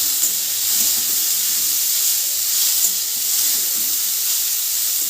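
Pumpkin greens sizzling steadily in a hot pan on a gas stove, a loud, continuous frying hiss that holds evenly throughout with no voices.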